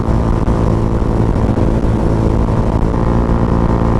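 A big bike's motorcycle exhaust roars loud and close on a night ride, a steady rumbling drone with harmonic engine tones that holds without a break.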